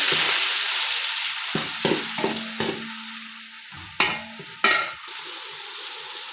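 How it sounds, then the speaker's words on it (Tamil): Onions frying in oil and ghee in a pan for home-style biryani, a steady close sizzle broken by several sharp scraping stir strokes, with no talking. "இப்போ நம்ம இதில் சேர்த்துக்க போகிறோம் வெங்காயம் நல்லா ஆயில் நல்லா வணங்கட்டும்"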